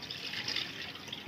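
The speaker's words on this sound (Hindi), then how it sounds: "तो इसमें अब हम पानी रखते हैं और धोएंगे बढ़िया से।" Water poured into a container of goat meat before washing it, a steady, soft splashing and trickling flow heard alone at low level throughout.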